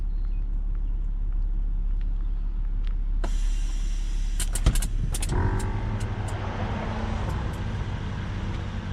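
Airlift 3P air suspension on an Acura TL kicks in under a steady low idle hum, releasing a sudden hiss of air followed by a few sharp clicks and a sustained pumping whoosh as the car lifts.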